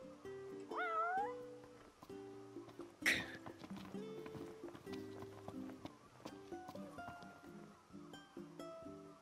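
A cat meows in Final Fantasy XV, two short rising mews early on over calm game music, followed by a sharp bright hit and continuing background melody.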